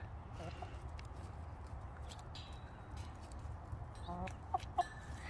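Backyard hens in a maze make soft, scattered clucks and short calls at a distance over steady outdoor background noise.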